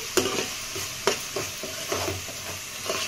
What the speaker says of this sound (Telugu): పేస్ట్ చేసుకొని ఇది బాగా వేగాలండి, పచ్చివాసన పోయే వరకు.